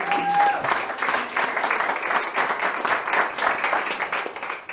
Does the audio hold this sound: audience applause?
yes